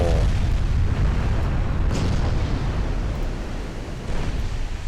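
Heavy warship broadside cannon fire at close range in a Greek naval campaign game: a sustained deep booming roar with overlapping blasts, loud throughout and alone.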